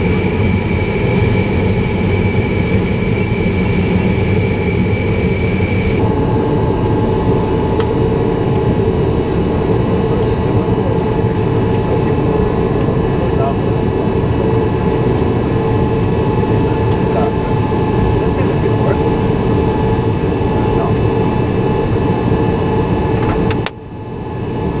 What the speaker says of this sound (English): The IL-76 TD is equipped with 4 Soloviev D30 engines